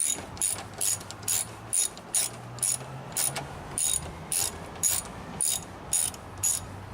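A key or ratcheting tool works bolts loose on a Yamaha YXZ side-by-side, making a crisp, evenly spaced run of about a dozen metallic clicks, close and clear.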